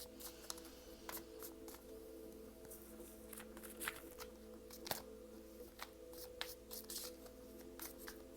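Tarot cards shuffled and flipped in a quiet room, a run of soft papery riffles and flicks scattered through the clip, fairly faint with no talk.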